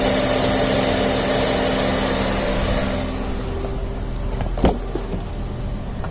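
A 2011 Honda Civic EX engine idles with the AC compressor spinning: a steady, loud broadband whir and hum close up, easing off partway through, then a single sharp knock.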